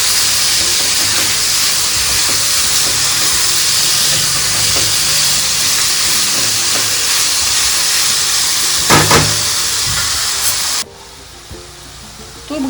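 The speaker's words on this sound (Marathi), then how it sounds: "आता हे सर्व ह्याच्यामध्ये छान परतून घेऊया." Capsicum and finely chopped tomato sizzle and hiss steadily in a hot pan, a loud continuous frying sound that cuts off near the end, with no talking over it.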